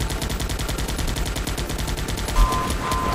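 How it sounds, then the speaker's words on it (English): Rapid bursts of soldiers' automatic gunfire in the game Guns Up! crackle in a dense, continuous rhythm throughout, loud and close, with a single heavier thump near the end. "these soldiers can all turn around and shoot over them"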